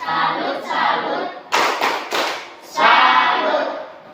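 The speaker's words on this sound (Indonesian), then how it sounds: "Tepuk salut." A group of people performs a "tepuk salut" clapping routine in a classroom session, several sharp bursts of rhythmic hand claps and thuds alternating with chanted voices.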